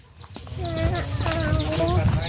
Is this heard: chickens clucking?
yes